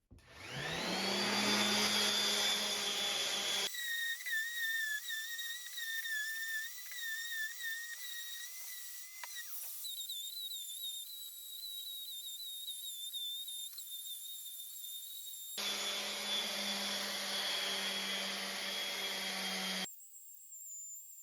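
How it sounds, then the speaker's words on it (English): Whining power sander drone with a high-pitched whistle, shifting pitch and texture as the tool starts and stops while sanding a live edge table, steady and close, no talking. "And back to more sanding."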